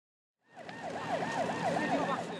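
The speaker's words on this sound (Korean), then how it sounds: "해경 보트가 사이렌을 켠 채 빠른 속도로 이동합니다." Coast guard boat siren wailing in a steady, rising-and-falling cycle while the boat speeds across the sea off Jeju port, starting abruptly and staying loud and close.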